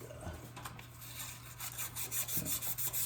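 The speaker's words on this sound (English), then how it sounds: "I take a little bit of 600 grit sandpaper" Close, steady rubbing of 600 grit sandpaper polishing a part of a Cub Cadet mower's PTO clutch, a soft continuous scratchy rasp over a low hum, with no talking.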